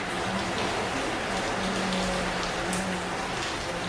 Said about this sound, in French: Il pleut, ça fait du bien.